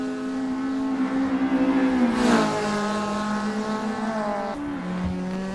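Race cars in a GTi Challenge round scream past at high revs, engine pitch dropping sharply as they brake late for a hairpin, with a second car following close behind and a brief commentator voice.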